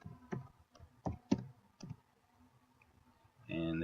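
Keys clicking on a computer keyboard as a word is typed, about half a dozen distinct taps in an uneven rhythm, close and fairly quiet, followed by the start of a voice.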